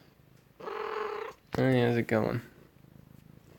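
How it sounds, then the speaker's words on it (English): Lucky, a pet cat, lets out a sustained meowing or purring sound before a voice speaks briefly, with the cat audible again close to the microphone. "If you were wondering what the meowing was, it's just my cat."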